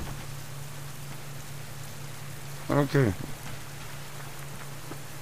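Soft, steady rain falls in the survival video game Subsistence, a faint constant patter under a low hum, briefly interrupted by a short spoken word.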